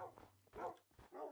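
Dogs in Minecraft barking, three short, close barks in quick succession with brief gaps between them, fairly faint overall.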